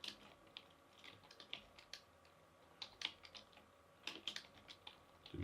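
Typing on a computer keyboard during programming work: quiet, irregular bursts of clicky keystrokes in quick clusters with short pauses between, close and alone without talk.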